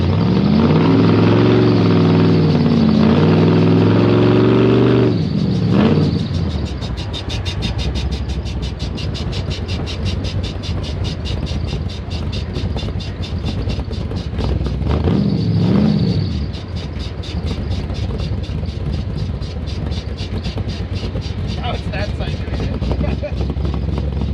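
A rat rod car powered by an LS V8 drives past, its engine rumbling steadily throughout with swells of revving around the start and middle, loud and close.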